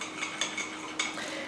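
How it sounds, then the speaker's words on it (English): A homemade eye cream mixture is stirred in a bowl, a spoon scraping and clinking softly against the sides in a steady, close rhythm with no talking. "So now we're going to give that a nice mix together."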